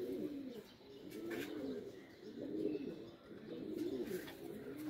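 Domestic flying pigeons cooing nearby in a repeating rolling rhythm, several soft throaty coos in a row over light background ambience.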